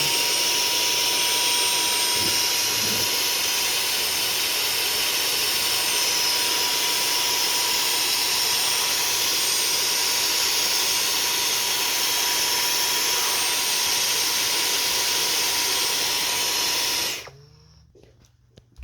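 A vacuum cleaner hoses dust out of a Dyson air purifier, a loud, steady rushing whine held for most of the stretch before it cuts off abruptly.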